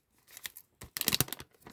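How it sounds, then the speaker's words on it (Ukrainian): Crinkling and tearing as a plastic bag of gloxinia tubers is opened: a few quick rustles, then a denser burst of crackly crumpling, close and fairly quiet, with no talking. "Вже я сьогодні відкриваю так пакет"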